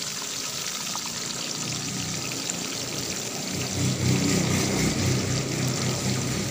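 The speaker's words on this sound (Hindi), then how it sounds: "कढ़ाई में हमने ऑयल गर्म कर लिया है। अब इसमें शामिल करेंगे गोभी" Cauliflower florets dropped into hot oil in a kadhai for aloo gobi, a steady close sizzle and crackle of frying that swells louder partway through, with no talking.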